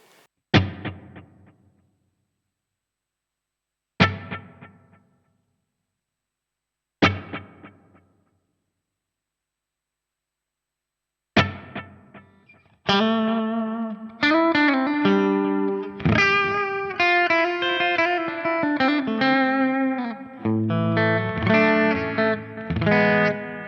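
Electric guitar through a Fractal stereo Mindgeist delay in Electro-Harmonix style: four single struck chords ring out and decay with echoing repeats, then a sustained, dense riff with layered echoes.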